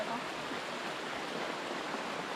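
Spring water flows out from under a rock at the foot of a mountain, making a soft, steady rushing wash that is faint and continuous, with no voices over it.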